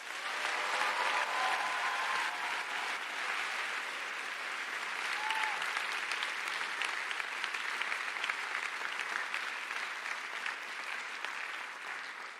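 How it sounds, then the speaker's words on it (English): An audience claps for a Hall of Fame inductee, holding a long, sustained round of dense applause at a fairly even loudness that eases slightly toward the end. "give a round of applause for your Hall of Fame inductee"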